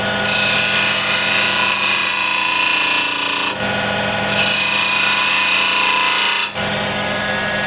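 A lathe tool cuts spinning walnut burl for a turned box in a loud, steady scraping whine, broken by two short pauses as the tool lifts off and re-engages.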